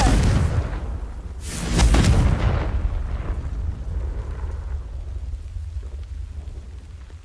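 Confringo explosive spell blast in Hogwarts Legacy, a booming impact near the start followed by a second sharp burst, then a long rumbling, crackling decay that fades slowly over several seconds, loud and close with no voices.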